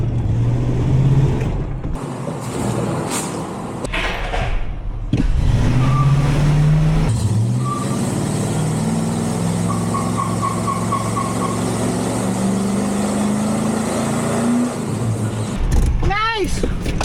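A 1996 Ford F-350 pickup with a 351W V8 drives along, its engine droning and shifting pitch as it accelerates, with rattles and mechanical clunks and a brief beeping.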